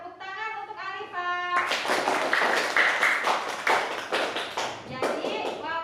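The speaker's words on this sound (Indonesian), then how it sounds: "Tepuk tangan untuk Alifa." A classroom of children claps for a student, loud and dense applause rising after a teacher's voice and lasting several seconds.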